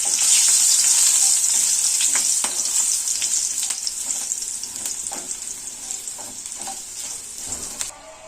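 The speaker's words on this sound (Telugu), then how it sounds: "ఇప్పుడు ఈ పోపు పెట్టుకుందాం కదండి, ఈ పోపు దీంట్లోకి వేసుకోవాలి" Tempering spices sizzle and crackle in hot oil for a Telugu chintakaya karam, a loud, steady frying hiss with small pops that eases slightly before cutting off near the end.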